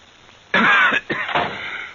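Two or three close, harsh coughs from a 1930s old-time radio show, in quick succession, with a brief pause between them.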